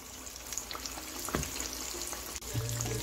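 Round samosa frying in oil over a medium flame makes a soft, continuous bubbling sizzle, with a brief louder crackle partway through and a light clink near the end.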